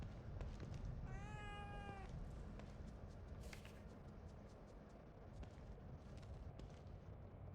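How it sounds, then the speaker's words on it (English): A cat meows in a video game, with one clear rising-and-falling meow early on over a low, steady background rumble, then quieter ambience. "A cat?"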